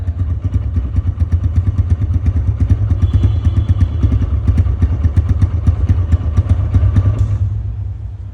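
A 2022 TVS Raider motorcycle with about 4,000 km on it idles steadily after starting, its close, loud engine putting out a rapid, even thumping beat that stops near the end.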